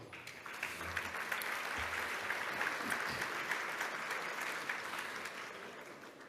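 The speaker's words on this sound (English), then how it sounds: "please a big applause for our presenter, Mark Germeshausen, the international president of Round Table 23 to 24." A large audience at the opening ceremony of a Lions Europa Forum in Klagenfurt applauds the international president of Round Table. The clapping is a dense, even roar that swells and holds for about six seconds, then begins to thin out.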